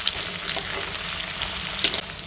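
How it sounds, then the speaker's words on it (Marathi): Onion added to garlic already roasted golden, frying in a hot pan for Kolhapuri whole masoor, a steady close sizzle with brief stirring scrapes and a louder crackle burst near the end. "लसूण आता भाजलेला आहे त्यामध्ये मी कांदा टाकून"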